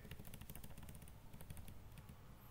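Rapid keystrokes on a computer keyboard while entering code in an ASP.NET Core tutorial, a busy, steady clatter of close, quiet key presses running throughout with no talking.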